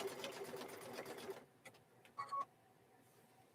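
A sewing machine runs a fast, steady stitch closing the raw seams of a fabric microwave bowl koozie, then stops, leaving a few soft clicks and a short whirring burst in a quiet room.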